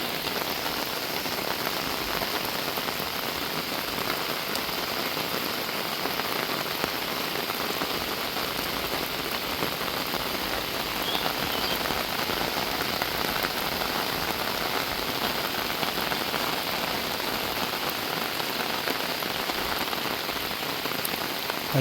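Intense rain falls without letup over a village during the rainy season, a thick, uniform wash of drops pattering on roofs and ground nearby, steady throughout with no talking.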